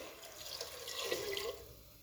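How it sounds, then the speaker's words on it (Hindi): Water poured steadily into a pressure cooker holding white chickpeas, a soft close-up gurgling stream that rises slightly in pitch as the pot fills, with no talking over it. "अब आपने बीच में पानी शामिल करना है।"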